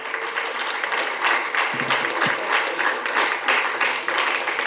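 Audience applause at a launch event for a musician, a dense, steady wash of clapping from a crowd filling the room, with a faint voice briefly underneath.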